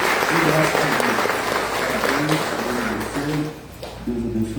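A church congregation claps steadily and loudly, a dense wash of applause running under someone speaking over it, easing slightly near the end.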